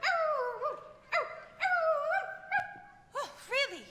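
A dog gives a series of short, high whining barks and yips, about six separate calls spaced irregularly, fairly close and clear, during a high school stage production of Mary Poppins.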